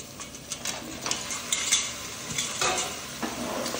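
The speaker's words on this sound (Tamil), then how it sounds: "நல்லா இந்த இஞ்சி பூண்டு தலக்கறி எல்லாம் நல்லா வதக்கிக்கணும்" Ginger garlic paste and goat head meat sautéing in a pan for a Tamil-style curry, giving a steady sizzle with repeated scraping and clinking stir strokes, close and fairly loud, with no talking.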